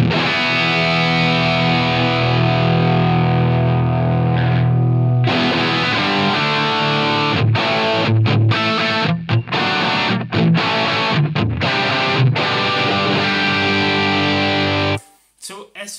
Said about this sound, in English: it sounds pretty good with the treble and the presence a little bit lower when you higher the gain